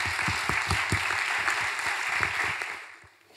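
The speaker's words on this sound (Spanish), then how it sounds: "yo lo único que puedo hacer es aplaudiros" Audience applause at a first-anniversary celebration in Madrid, a steady wash of many hands clapping, fairly close and full, holding for about three seconds before thinning out at the end.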